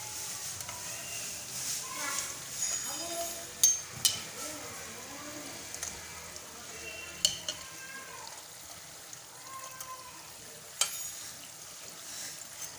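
Tomato chakli dough spirals deep-frying in hot oil, a steady moderate sizzle and bubbling with a few louder pops and clinks of a utensil, continuing throughout without speech.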